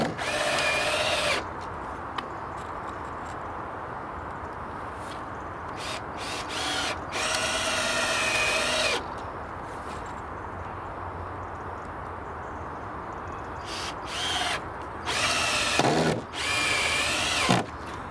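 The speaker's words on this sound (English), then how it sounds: "Just grind them screws off in a moment." Screws being ground off with a power tool, heard as several loud, close bursts of high grinding whine separated by pauses with low background noise.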